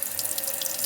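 Water running into a toilet tank after a float repair, a steady close hiss of filling water with faint fluttering splashes and no talk.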